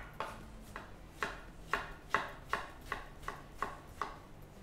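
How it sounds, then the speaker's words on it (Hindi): A knife chopping a large tomato on a cutting board for dhaba-style paneer butter masala, about ten crisp, evenly spaced thuds in a steady rhythm, close and clear with no talking. "तो ये लीजिए, टमाटर भी चॉप कर लिया हमने।"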